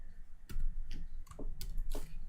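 Several separate keystrokes tapped on a computer keyboard while writing JavaScript code, spaced irregularly over a quiet background, close and moderately loud.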